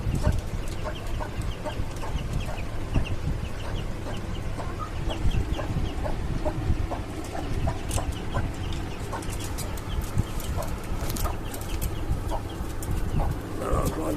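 Two native desi hens kept on a rooftop cluck steadily against a constant background hum and rustle, the short calls repeating throughout.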